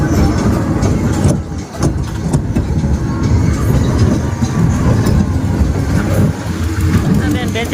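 A fairground toy train ride running at the Gadhada fair, its rumbling, rattling motion continuous beneath loud, close chatter from riders.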